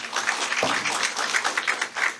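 Audience applause welcoming a speaker at a campaign launch rally for a California state senate candidate: dense, steady clapping from a crowd, moderately loud and continuous throughout with no voices.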